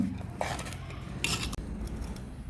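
Fish fry biryani being mixed by hand or spoon on a plate, with close, quiet scraping and clinks of cutlery against the dish in irregular bursts.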